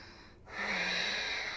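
A person breathing during a yoga session, one slow, audible breath drawn in close to the microphone, alone and fairly soft.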